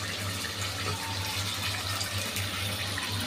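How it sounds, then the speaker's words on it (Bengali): Water pours into a pan of chicken curry with jackfruit seeds and amaranth stems after the spices are ground. A steady, close gushing stream runs unbroken throughout, with no talk. "আবারও মশলা বাটার পর এখন ফাটা দিয়ে পানিগুলো আবারও দিয়ে দিলাম।"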